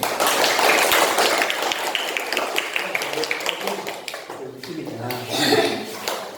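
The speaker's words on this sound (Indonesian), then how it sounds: "Yuk, sebelumnya tepuk tangan dulu" A classroom of students clapping their hands together, a dense burst of fast overlapping claps that holds steady and then thins out, with a teacher's voice speaking over the end.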